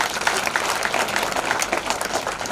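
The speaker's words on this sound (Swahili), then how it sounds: "Kwa wote kunie mwalimu makofi special." An audience at an early childhood digital learning launch applauds the teacher, a dense burst of many hands clapping, loud and continuous for a couple of seconds.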